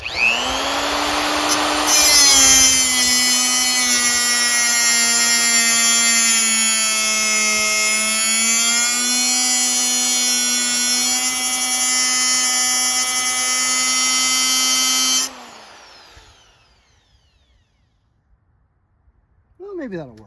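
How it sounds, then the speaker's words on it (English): A power drill bores out a part on a Ford F-150, a loud sustained whine that holds for about thirteen seconds, then winds down and stops, followed by near silence and a faint sound at the end. "Might as well just drill this whole thing out."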